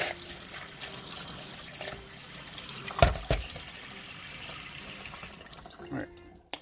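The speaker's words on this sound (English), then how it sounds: "So, first thing I do is just rinse them off." Agate rocks rinsed under a running tap make a steady close splash and trickle of water, with a brief knock of stones near the middle before the flow tapers off.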